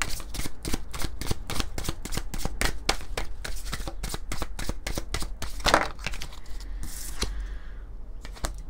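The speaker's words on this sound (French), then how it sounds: "On va prendre quelques cartes de l'oracle" Oracle cards are shuffled by hand up close, a rapid run of crisp papery riffles and slaps in a steady rhythm, ending in a softer flutter as the deck settles, with no voices.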